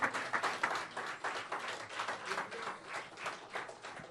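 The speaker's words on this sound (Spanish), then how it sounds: "¿Cuánto le da un aplauso al Señor por eso?" A church congregation applauds during a worship service, with dense, continuous clapping from many hands that stays fairly steady across the whole moment.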